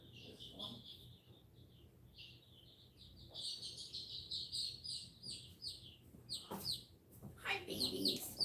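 New Hampshire Red and Wyandotte chicks chirp in a continuous stream of high, rapid peeps that grows busier and louder, with handling noises in between.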